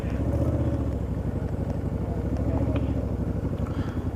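Motorcycles riding through the Netherlands near Rotterdam toward the port, a close, steady engine drone with continuous rumbling throb and no talk.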